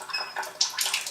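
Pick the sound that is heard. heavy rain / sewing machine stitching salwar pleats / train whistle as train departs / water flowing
water flowing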